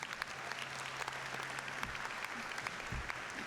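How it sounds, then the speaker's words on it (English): At a 2015 university commencement ceremony in Indiana, the audience gives continuous applause from a large crowd, a soft, even wash of clapping heard from a distance with a few faint low knocks. "Give them a big round of applause."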